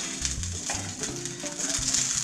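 Tomatoes roast on a comal lined with aluminum foil, giving a soft, steady sizzle with light crackles and occasional low thumps close by.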